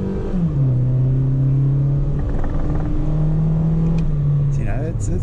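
A 2008 Honda Jazz Sport pulling away in first gear, a loud close engine drone rising in pitch and holding, easing briefly, then climbing again before a shift near the end.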